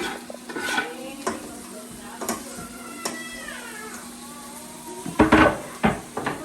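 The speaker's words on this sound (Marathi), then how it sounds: "आता मसाला फ्राय करायचं चाललंय छान तेल सुटले तर घातलेला आहे टोमॅटो" Masala with tomato fries in oil for a cashew curry. A spoon scrapes and stirs it in the pan with several sharp clanks, over a low sizzle and a steady background hum.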